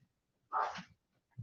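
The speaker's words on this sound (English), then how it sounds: "Sorry about the dogs." Dog letting out a single short sneezy bark or snort indoors, faint and slightly distant, followed by a soft low huff.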